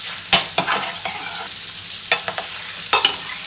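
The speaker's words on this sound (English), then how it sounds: "let's drown these steaks in this delicious garlic, thyme, butter." Sirloin steaks sizzle in a pan of butter with garlic and thyme, a constant close fry broken by several sharp spoon scrapes and splashes as the butter is spooned over.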